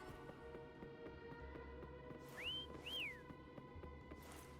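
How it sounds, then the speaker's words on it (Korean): Two short rising-then-falling whistle notes in Wuthering Waves, clear and close over a quiet hum of game ambience, with no voices. "휘파람으로 파음을 불러보시겠어요?"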